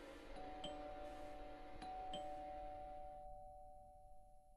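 A doorbell chimes in the horror adventure game The Last Door, several clear ringing dings over a low ambient hum, fairly quiet, then the tone fades to near silence.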